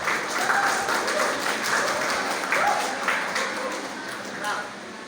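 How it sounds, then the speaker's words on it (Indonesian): An audience at a legislative seminar in Pemalang claps steadily for several seconds, a dense, even patter with voices and a few yelps carrying over it. "Tepuk tangan, tepuk tangan."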